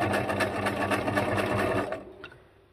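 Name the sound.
sewing machine stitching zigzag on junk journal tag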